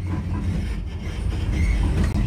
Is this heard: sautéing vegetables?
no